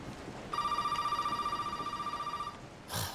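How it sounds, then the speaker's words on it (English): A telephone rings inside the Resident Evil 7 video game with a single electronic, warbling ring lasting about two seconds, fairly clear against a quiet background. "The phone's ringing."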